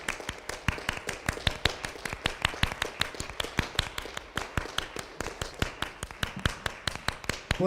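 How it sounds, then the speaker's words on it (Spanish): A church congregation claps in unison, sharp regular claps in a fast steady rhythm, close and fairly quiet, with no voices over them. "Démosle un aplauso fuerte al Señor."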